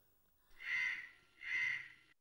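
A crow caws twice, two drawn-out harsh calls spaced about a second apart, moderately near and standing out against a quiet background.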